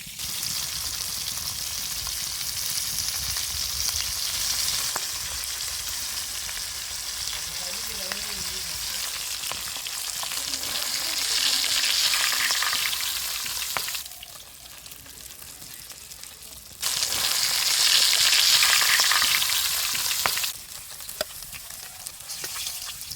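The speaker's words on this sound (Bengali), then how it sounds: "এই যে আমার মাছ ভাজা হয়ে গেছে" Pangas fish fries in a pan with a steady, loud hiss of oil that surges and eases in waves, broken by occasional stirring scrapes and a few quiet murmurs of voice in the background.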